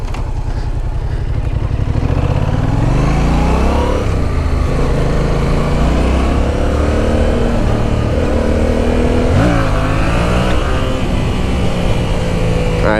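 A 2015 Yamaha FZ-07 motorcycle rolls along in second gear on a test ride, its engine droning loud and close with a steady low throb that rises and falls as the throttle is worked, climbing in pitch near the middle and again toward the end.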